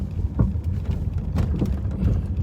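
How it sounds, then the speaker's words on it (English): Steady rain on a rainy morning in Kansas City makes a continuous low, rumbling wash of drops with scattered small patters, close and moderately loud. "Rainy day here in Kansas City."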